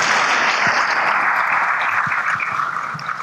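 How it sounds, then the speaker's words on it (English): Audience applause for the Vice President at a CEO summit panel in Ghana, a steady wash of clapping from a seated crowd that holds for a few seconds and begins to thin toward the end. "Please, shall we clap for the Vice President again?"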